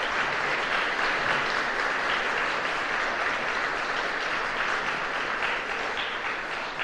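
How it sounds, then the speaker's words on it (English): Sustained audience applause for city staff at a State of the City address in Jackson, Michigan, a dense even wash of many hands clapping that holds steady throughout and eases slightly at the end. "please give them a round of applause also"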